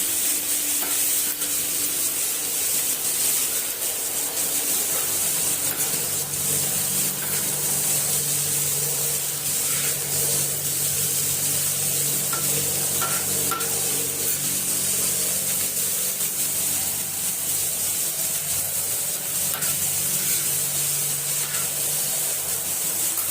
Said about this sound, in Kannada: ಮಸ್ತಾಗಿ ಫ್ರೈ ಮಾಡ್ಕೋಬೇಕು ನೋಡ್ರಿ